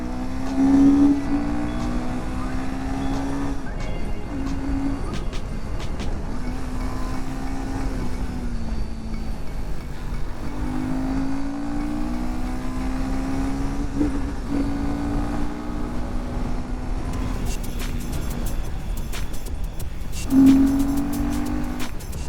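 A Royal Enfield Himalayan 450 motorcycle is ridden with engine braking, its engine droning steadily close by while the note dips and rises repeatedly as the throttle opens and closes, with no talking.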